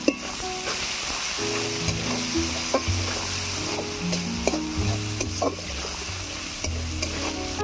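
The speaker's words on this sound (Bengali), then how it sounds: "এবার এই তেলের মধ্যে দিয়ে দিচ্ছি পেঁয়াজ কুচি।" Chopped onions and whole spices fry in hot oil for a biryani, giving a steady loud sizzle with frequent stirring scrapes up close.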